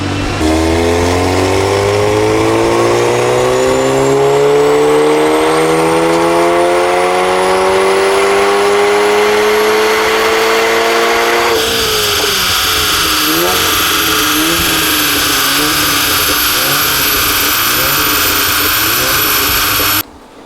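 A stage 2 tuned VW MK7 Golf R engine revs hard on dyno rollers, climbing steadily for about eleven seconds to a loud peak, then holding a high, buzzy drone before cutting off abruptly.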